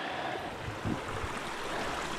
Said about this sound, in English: I walked past all of this delicious clear water just running on downhill to the river and out to sea